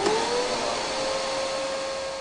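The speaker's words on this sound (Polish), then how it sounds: "odkurzacz o mniejszej mocy to mniejszy hałas" A vacuum cleaner running steadily nearby, a loud continuous whine with a faintly falling tone over a broad airy roar, heard alone without speech.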